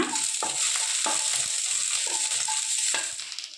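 Garlic frying with onions in a pan: a steady sizzle with several sharp scrapes of a spatula stirring the pan at irregular intervals, close and alone with no voices.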